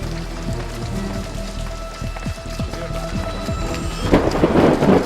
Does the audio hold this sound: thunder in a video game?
yes